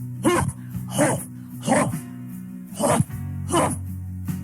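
A dog barks five times in a steady rhythm, close and clear against a low hum.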